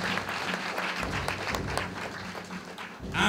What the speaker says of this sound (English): Could we give her another round of applause,